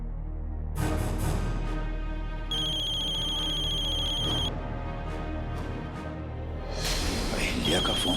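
A telephone rings in a Hindi TV drama scene as a bright electronic tone, sounding in a sustained burst midway and returning briefly near the end over dramatic music, without clear talk.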